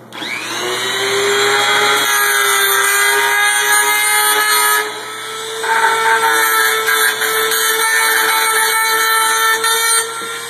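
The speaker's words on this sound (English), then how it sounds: "your Dremel and scrape these off, this metal plate will actually come right off." A Dremel rotary tool grinds metal off Xbox 360 parts, a loud, close, sustained high-pitched whine that dips briefly mid-way and then resumes steadily.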